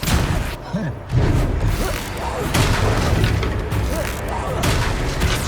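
The Confringo blast spell in Hogwarts Legacy, a fiery combat explosion, booms through a dense battle mix of impacts and crashes, with voices shouting over it.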